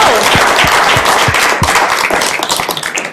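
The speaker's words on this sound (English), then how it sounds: "Let's give another round of applause to all the presenters." Audience applause for presenters at a civic innovation pitch event, dense steady clapping from a large room that holds loud and then thins slightly toward the end.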